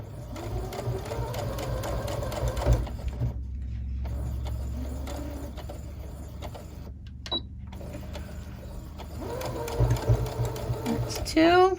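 Sewing machine stitching a tote bag pocket, running forward a few stitches, then briefly reversing and forward again, a steady close motor whir with short pauses while a voice talks over it.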